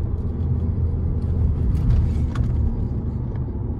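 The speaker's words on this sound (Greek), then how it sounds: "Φοβερό το πως ανοίγει το αυτοκίνητο. Τόσο άμεσα. Αυτός ο δίλητρος turbo κινητήρας." An Audi S3 with a two-litre turbo engine and all-wheel drive accelerates hard, a loud, dense engine roar heard steadily from close by.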